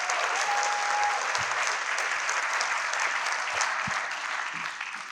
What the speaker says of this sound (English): So let's give it up for Mr. Chris Welton